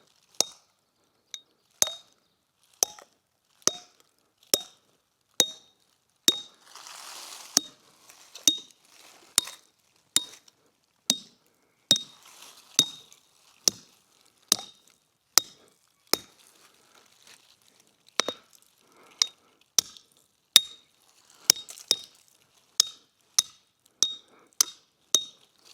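Wood being split by hand with repeated tool strikes during a solo off-grid log cabin build, sharp clinking impacts in a steady rhythm with occasional crackling between blows, fairly close.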